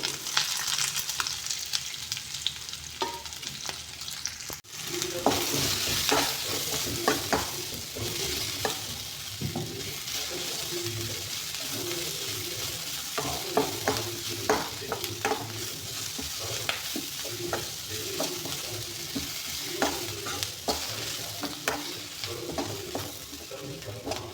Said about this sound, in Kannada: ಇದನ್ನು ನಾನು ಈಗ ಎಣ್ಣೆ ಒಳಗಡೆ ಹಾಕಿ ಫ್ರೈ ಮಾಡ್ಕೋತಾ ಇದ್ದೀನಿ